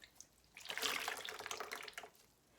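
Water runs from a tap onto a slightly damp sponge held for smoothing a clay pinch pot, a steady close splashing rush for about a second and a half, with no talk.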